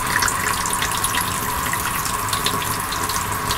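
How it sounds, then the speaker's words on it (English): Shower tap with pull-down head running in the toilet room of a 2006 Peugeot Compass 140 GT motorhome, a loud, steady hiss of spraying water close by, uninterrupted and without speech. "We've got the tap, pull down for the shower effect,"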